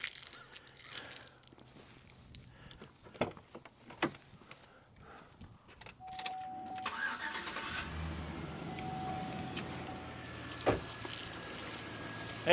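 A car engine is jump-started using a GOOLOO A3 portable jump starter: a few scattered clicks and knocks first, then the engine cranks, catches and settles into a steady, fairly quiet idle.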